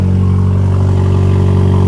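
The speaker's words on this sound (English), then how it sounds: "I'm going to run the exhaust, but I will tell you, the Jeep's pretty cold." A cold Jeep engine idling with its exhaust running, a loud, close, steady throb with regular low pulses and no talk, recorded beside a paved stone driveway.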